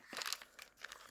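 Crinkling of a small plastic packet from knife packaging being handled up close, a burst of crisp crackles followed by lighter intermittent rustles, with no talking.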